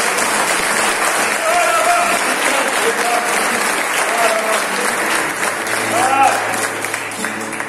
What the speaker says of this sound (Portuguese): Recebe e aplauda o Senhor em nome de Jesus.